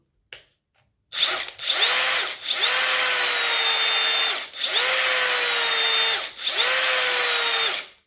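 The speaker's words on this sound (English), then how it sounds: "when you hear a brushless motor, amazing" A Parkside Performance 20V cordless brushless impact driver runs in three sustained bursts of about a second and a half each, separated by brief pauses, with a steady high motor whine, loud and close.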